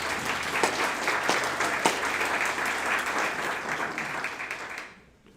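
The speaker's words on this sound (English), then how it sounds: "Give yourself a hand around of applause." Sustained audience applause at a graduation ceremony for a reentry program fills the room evenly at moderate loudness, with a few sharper claps standing out before it fades quickly to silence at the end.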